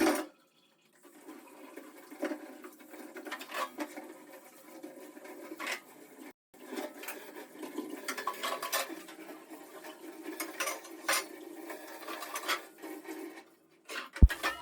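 Dishes being washed by hand in a home kitchen under running water, a steady rushing and splashing flow with intermittent clinks of utensils and pots, continuous for most of the stretch, fairly near, with no talk.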